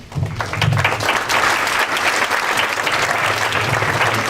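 Audience applause at a 2015 closing ceremony, a dense, steady wash of many hands clapping near and loud throughout, with no pause.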